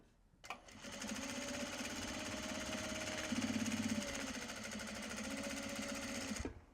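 Sewing machine stitching a Japanese fabric bag, a steady close mechanical hum that runs continuously for about six seconds, its needle rhythm quickening slightly partway through.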